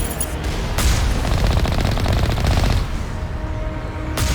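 Enemy turrets in Mass Effect Legendary Edition fire rapid, dense automatic bursts, loud and close, with a pause between volleys and no talking.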